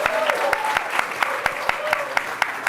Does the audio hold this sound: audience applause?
yes